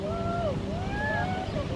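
Ocean waves wash steadily along the shore at Carlsbad under strong wind buffeting the microphone, a continuous broadband roar with faint tonal whistles over it.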